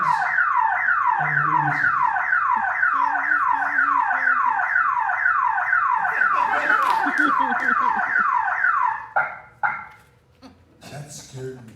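A car alarm blares on and off in a repeating rising-falling whoop, loud and steady for about nine seconds before cutting out, with people talking underneath and afterward.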